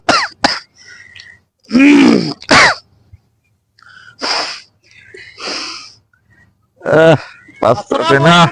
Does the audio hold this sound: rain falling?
no